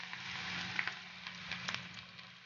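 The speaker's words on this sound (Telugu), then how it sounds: "క్యాబేజీ పకోడీని చిలకరించినట్టుగా వేసుకోవాలి. వేసుకొని నెమ్మదిగా లో ఫ్లేమ్లో ఉంచుకొని నెమ్మదిగా కాల్చుకోవాలి." Cabbage pakoda batter deep-frying in hot oil over a low flame makes a soft, continuous sizzle with scattered crackles and pops close by.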